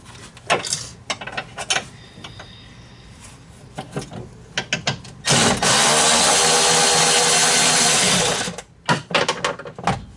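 A wrench works a nut on the steering of a Polaris RZR during a steering quickener install, with irregular metallic clicks and ratchets, then a loud sustained rapid ratcheting buzz of about three seconds, and more clicks afterward, all close up.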